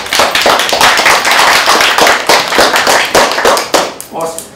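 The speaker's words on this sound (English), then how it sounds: "Let's give everybody a round of applause." A seminar audience gives a round of applause at a finance master class, dense overlapping claps filling the room steadily before thinning out near the end.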